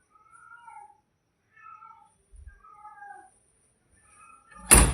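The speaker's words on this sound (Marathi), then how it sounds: "ते मांजर खूप जास्त बोलत होती" A house cat meows repeatedly, a series of short, fairly quiet calls spaced about a second apart, ending with a sudden loud thump or knock close by.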